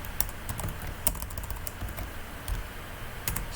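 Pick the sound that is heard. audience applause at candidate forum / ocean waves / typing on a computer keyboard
typing on a computer keyboard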